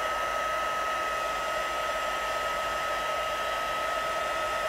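A heat embossing gun blows hot air in a constant, loud, steady whoosh with a fan whine, unbroken and close-up, with no voices.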